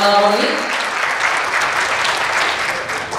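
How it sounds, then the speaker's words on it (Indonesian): An audience at a procurement talks event claps in sustained, loud applause that fills the room for several seconds, briefly under a speaker's voice at the start. "Boleh berikan tepuk tangan yang paling meriah sekali lagi untuk Bapak Roni."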